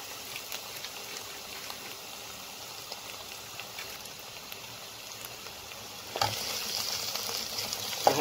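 Chopped onions and garlic sizzling in about half a cup of oil make a faint, steady crackle that swells louder near the end as the pan is stirred.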